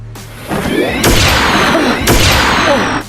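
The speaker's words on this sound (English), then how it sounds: "You have to shoot us with it to restore our powers." A superpower blaster fires in two loud booming blasts about a second apart, each followed by a sustained whooshing roar.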